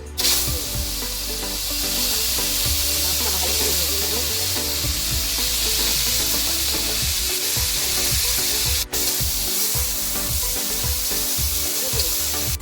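Cooking oil heats in a wok before spinach and shrimp go in, producing a loud, steady, close hiss and sizzle that runs throughout, with a few faint stirring knocks near the end.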